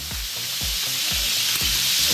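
Rabbit frying in a paella pan for Valencian paella makes a loud, close, constant sizzle, with soft stirring scrapes about every half second.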